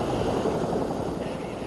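Military helicopters carrying airborne troops in a massive assault, a steady low rotor and engine drone that stays loud and even throughout, with no voices.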